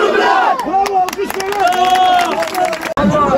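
Home crowd at a Turkish amateur football match, Nurlupınar Spor against Kula Belediye Spor, roaring and chanting loudly and continuously, with shouted voices over scattered claps.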